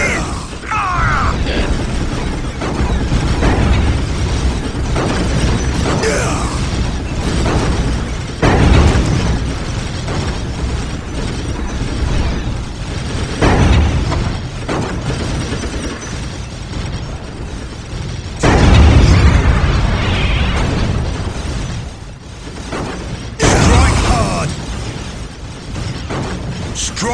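Cannons fire in the Warhammer 40K real-time strategy game Dawn of War: Dark Crusade, with Imperial Guard forces in a freestyle single-player battle. Loud booming blasts come in bursts over continuous mechanical battle noise.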